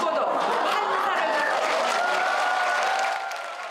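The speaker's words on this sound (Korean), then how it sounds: "김옥나 여사의 나이가 소개되자 환호가 쏟아집니다" A church audience applauds and cheers for a 100-year-old woman, with a dense wash of clapping mixed with voices and chatter that fades slightly near the end.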